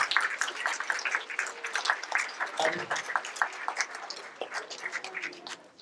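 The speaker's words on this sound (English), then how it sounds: "Please give a round of applause" Applause in a hall at a science fair as a judge is introduced, a dense patter of many hands clapping at moderate volume, fading slightly toward the end.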